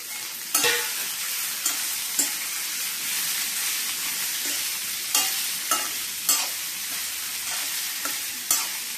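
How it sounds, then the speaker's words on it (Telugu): Beetroot stir-fried in a pan with coconut gives a constant close sizzle, broken by regular scraping strokes of a spatula every second or so. "ఇలా వేగాక ఇందులో మనం బీట్రూట్ వేసుకోవాలి."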